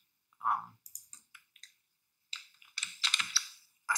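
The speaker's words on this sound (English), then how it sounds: "then I type Python here" Rapid keystrokes on a computer keyboard while working in a terminal, close and crisp, falling into irregular bursts of clicks separated by short pauses.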